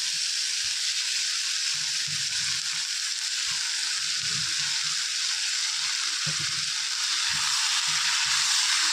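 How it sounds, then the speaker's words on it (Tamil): Onions and tomatoes sautéing in a pan for a quick chutney, a loud, steady hiss of frying that runs throughout, with soft low thumps and scrapes of stirring now and then and no speech. "நல்லா வெங்காயம் வதங்கினதுக்கப்புறம் தக்காளி ஆட் பண்ணிக்கலாம்"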